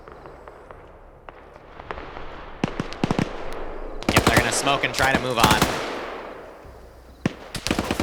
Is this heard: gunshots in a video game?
yes